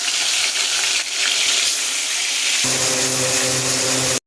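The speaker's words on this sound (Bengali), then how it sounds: "কড়ায় মাছ ভাজার জন্য তেল দিয়ে দিলাম, একে একে মাছগুলো ভেজে নেব।" Katla fish pieces fry in oil in a wok, a dense, hissing sizzle that runs steadily and close, shifting partway through to a fuller, bubbling crackle as the oil reacts, with no one speaking.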